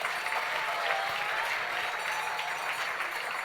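Audience applause at an awards ceremony, a steady, moderately loud wash of many hands clapping that continues evenly throughout without speech.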